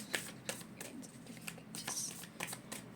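Tarot cards are shuffled and drawn in soft, quick riffling bursts and light flicks. The sound is faint and close, in a quiet room.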